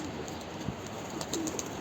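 Pigeons coo softly in a loft among a flock, a few low calls rising over steady broadband noise, with light scattered clicks and no talk.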